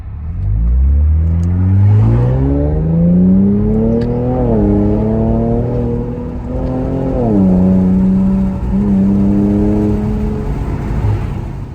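An Infiniti Q60 fitted with an Ark exhaust and downpipes accelerates hard, its engine note climbing through several rising sweeps with brief drops between gear changes, loud and close with no talk.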